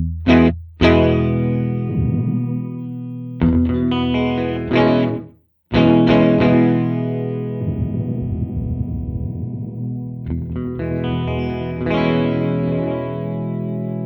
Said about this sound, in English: So this is definitely a reverb sound.